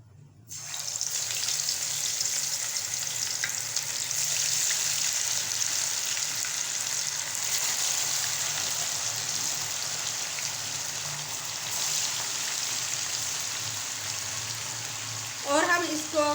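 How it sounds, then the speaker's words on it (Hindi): Marinated masala fish frying in hot oil, a loud, steady hiss and crackle that runs throughout with a few sharper spits and pops near the end. "अब हम इसको फ्राई करेंगे।"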